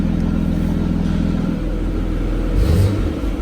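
A rebuilt BMW M4 fitted with an ARMYTRIX exhaust revs loudly and close, its deep steady engine drone swelling into a stronger rev burst toward the end.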